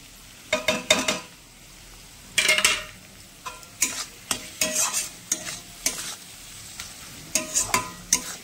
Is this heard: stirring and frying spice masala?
yes